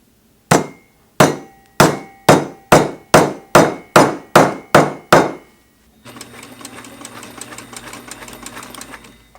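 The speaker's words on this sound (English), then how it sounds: "hammered it down to flatten it" A hammer strikes a thick jeans seam about ten times in a steady, evenly spaced rhythm, each blow sharp and close. A short stretch of machine whirring follows.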